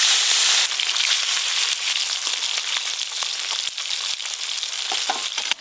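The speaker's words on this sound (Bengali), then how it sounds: "এবার তোপসে মাছ ভাজার জন্য কড়াতে তেল দেব। তেল বেশ ভালো করে গরম হয়ে গেছে" Topse fish frying in hot oil in a kadai, a loud continuous sizzle and crackle close up, with occasional sharp pops and spatters.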